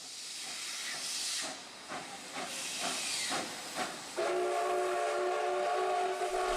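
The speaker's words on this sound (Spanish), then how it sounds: "escuchar el clásico silbido del tren" Loud hissing steam gives way to a sustained, harmonic steam train whistle blowing steadily near the end.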